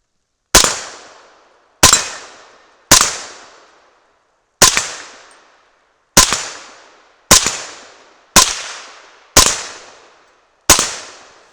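Nine suppressed 300 Blackout rifle shots at steel targets ring out in a steady string, each a loud sharp crack with a trailing decay, spaced about one second apart, with no voices.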